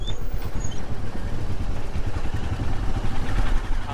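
Motorcycle carrying two riders on a road near Taarbal village in Ladakh, engine rumbling steadily and close throughout with wind buffeting and a little clatter, no talk.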